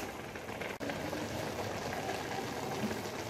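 Grated carrot halwa bubbles and sizzles steadily in a pan over high heat as its water cooks off, a soft continuous simmer with one brief break.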